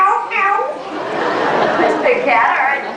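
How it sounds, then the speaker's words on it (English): A cat meows a few times, the calls close and fairly loud, with a voice murmuring and chuckling underneath. "there was a cat."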